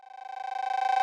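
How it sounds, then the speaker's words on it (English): A dry Roland TR-808 cowbell tone rings in a quick rolling pattern, swelling slightly louder over about a second, with nothing else playing. "It is a classic cowbell sample that you will hear in basically every hip-hop song."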